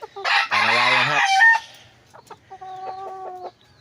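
A large four-month-old Kanawayan Hatch rooster crows loudly and close by, one long strained call, followed by softer clucking and short vocal notes.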